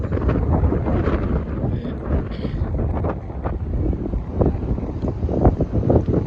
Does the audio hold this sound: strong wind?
yes